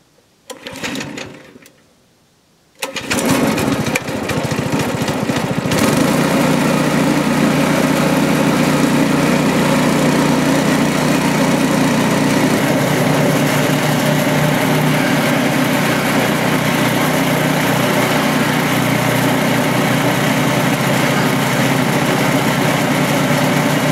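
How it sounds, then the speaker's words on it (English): A DR wood chipper fed rotten wood starts after a brief quiet gap and then runs loud and continuous, a steady high-pitched engine drone with grinding texture close by, with no talking. "don't be putting rotten wood in the chipper"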